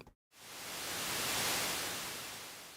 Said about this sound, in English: yeah, it's just some white noise.